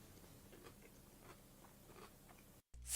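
Crunchy food being bitten and chewed close to the microphone, with a steady run of crisp, repeated crunches for a few seconds before a brief dropout and a louder rustle.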